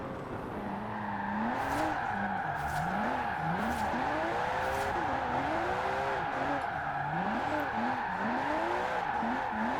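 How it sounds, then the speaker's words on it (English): A twin-turbo classic Porsche drifts with all-wheel drive in Forza Horizon 4. The engine roars steadily while its pitch rises and falls in repeated sweeps, and tires squeal through each slide, loud and close throughout. "Oh, this all-wheel drifting is just fun."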